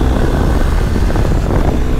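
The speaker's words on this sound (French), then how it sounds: "on sent vraiment ce moteur qui se réveille" BMW R 1250 R boxer twin motorcycle engine, near and loud, with a steady dense rumble throughout and no talk.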